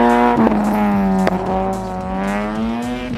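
A Honda Brio city car tears past at a Semarang sprint rally in 2025, its engine screaming loud and close with a rising, falling tone and two sharp gear-change breaks before the howl fades slightly.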